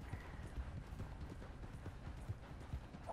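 Rhythmic horse hooves in a video game clip-clopping at a steady trot, fairly quiet and continuous, with no voices over it.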